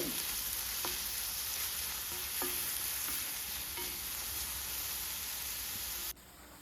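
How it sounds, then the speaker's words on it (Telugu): Onions fry in hot oil for a Telugu telagapindi curry, giving a steady, fairly faint hiss with a few soft stirring taps, then the sizzle drops away abruptly near the end. "ఉల్లితెరకు బాగా వేగనివ్వాలి"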